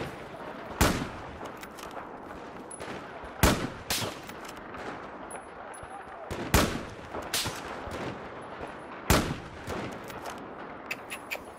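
Gunfire in the video game Battlefield, a rifle fired with iron sights: sharp, loud single shots spaced a few seconds apart, some in quick pairs, over steady game background noise.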